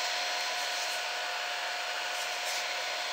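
A 3D printer is printing Nespresso pod holders, giving off a steady whirring hum with a faint high whine that holds evenly the whole time, with no talking.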